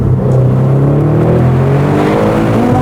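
Audi RS6 Performance engine revving in manual mode, a loud, steady rising drone with strong low harmonics that holds without pause for about three seconds, with no talking over it.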